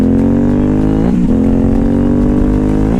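An Aprilia Shiver 750 with a Two Brothers exhaust accelerates up close with a loud, rough engine note. It climbs in pitch and dips twice as the rider shifts gears.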